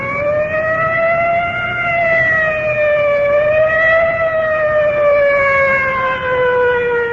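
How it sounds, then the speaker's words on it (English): A loud 1954 fire department inhalator squad siren wails continuously at night, its tone slowly rising and falling, sounding fairly close with no pauses. "I can hear the wail of the siren of our fire department inhalator squad rolling"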